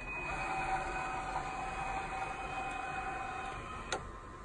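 Steering wheel retracting when a BMW concept car is switched into autonomous mode: a steady electric motor whine with a faint mechanical hum, ending in a short soft click.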